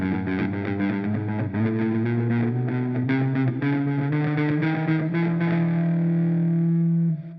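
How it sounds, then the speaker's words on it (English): Distorted electric guitar picked fast at four picks per beat, a rapid continuous stream of notes stepping through a pattern, loud and close before ending abruptly. "once you've built up even more speed, you can do 4 picks in one time, so it would sound like this."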